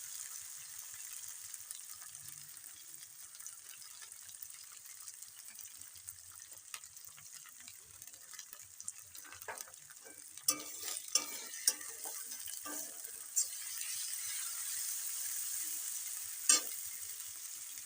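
Ginger paste fries in a pan for a yogurt chicken dish, a quiet, steady sizzle with intermittent stirring scrapes and taps growing busier toward the end, no voices.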